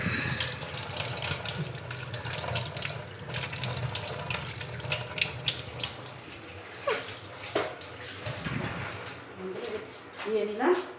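Chopped coriander leaves are rinsed under a running kitchen tap, a steady stream of water splashing into a sink with some handling clatter near the end. Someone talks over it.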